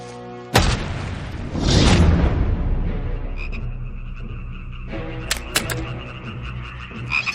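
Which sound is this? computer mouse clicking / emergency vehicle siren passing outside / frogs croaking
frogs croaking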